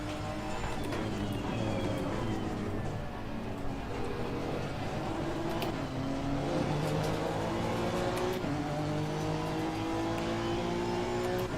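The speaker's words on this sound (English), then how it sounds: "VTEC is definitely kicking in." A Honda NSX GT3 engine revs hard during a SimGrid race in Assetto Corsa Competizione. A loud, continuous high-pitched roar climbs and drops through gear shifts, with other engines layered underneath.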